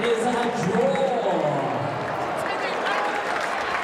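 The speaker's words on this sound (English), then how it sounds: "both fighters a big round of applause, please" An audience applauds two boxers after a fight is declared a draw, a broad wash of clapping and crowd noise running under an announcer's voice.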